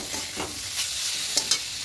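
A spatula stirs and mixes vegetables with ginger powder in a hot pan, giving a couple of quick scraping strokes over a light sizzle.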